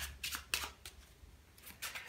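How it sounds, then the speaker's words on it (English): A pack of playing cards shuffled by hand during a close-up magic trick, quiet rapid riffling bursts separated by short pauses, near and soft. "they shuffle the pack, so that is genuine"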